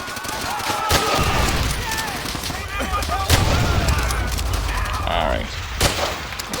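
Gunfire in Call of Duty: World at War, several loud sharp shots and bursts spread across the battle noise, with someone talking over the shooting.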